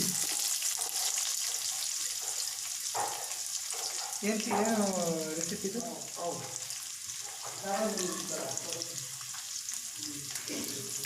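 Onion, garlic, green chilli, curry leaves and tomato frying in oil for a bachelor-style butter chicken, a steady broadband sizzle running throughout with a voice talking over it.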